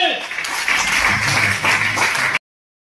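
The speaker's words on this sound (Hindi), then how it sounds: "जबरदस्त ताली होनी चाहिए" Loud audience applause at a company event, a dense sustained wash of clapping for about two and a half seconds with a voice speaking over it, then an abrupt cut to silence.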